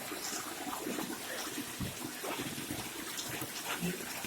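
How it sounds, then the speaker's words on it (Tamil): Water pumped by a motor pours into a granite stone well, a continuous splashing, trickling rush heard close by, steady throughout with faint background voices. "இந்த பக்கம் நீர் மோட்டர் ஓடிக்குது"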